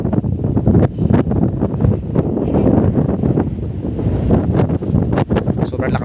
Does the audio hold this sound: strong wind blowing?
yes